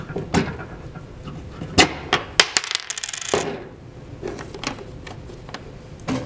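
A flaring tool stamp is pulled from a brake line flaring tool with pliers. Sharp metallic clicks and clinks come in irregular bursts, with a brief scraping rattle in the middle, close and fairly loud.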